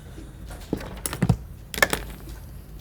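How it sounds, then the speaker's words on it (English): Scissors cut a circle around a paper shape for a mixed-media pickup truck art project, making a few sharp, close snips in small bursts over near silence, with no talking. "I'm just kind of like cutting a little circle around the shape to start with"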